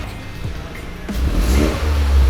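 Stock Toyota GR Corolla engine revving, a mid-pitched engine that swells louder in the second half as the revs build, close by with no talk.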